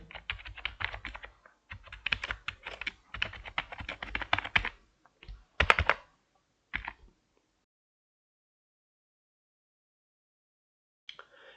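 Typing an email address into a website registration form on a computer keyboard: several bursts of brisk, close key clicks for about six seconds, then silence with a faint tap near the end.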